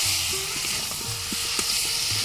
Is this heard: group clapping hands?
no